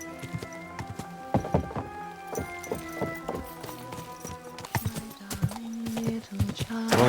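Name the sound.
horse hooves clip-clopping, from video game Kingdom Come Deliverance 2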